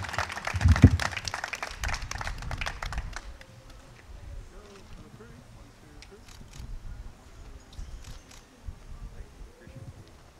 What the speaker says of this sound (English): Let's give another round of applause for the American Diabetes Association